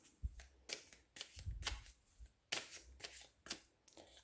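A deck of tarot cards being shuffled by hand, a close series of quick riffling and slapping bursts repeating every half second or so in a quiet room.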